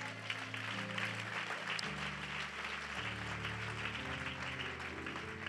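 A church congregation claps together in steady, sustained applause, fairly distant and reverberant, over a held organ or keyboard tone, with no voices standing out.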